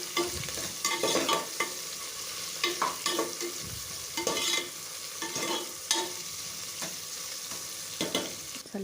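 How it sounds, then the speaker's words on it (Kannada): Onions and green chillies fry in a pan for egg biryani, a soft sizzle broken by repeated scraping stirs of a spatula at an uneven rhythm, close and moderately loud with no talking. "ಇದನ್ನು ಫ್ರೈ ಮಾಡಿ."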